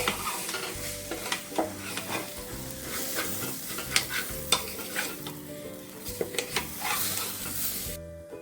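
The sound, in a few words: stirring rice with salt in a frying pan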